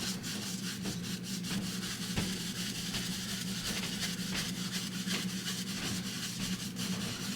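Crisscross paint brush strokes scrubbing across canvas with liquid white, a steady rough rubbing texture that continues without pause, close and moderately loud, with no talk.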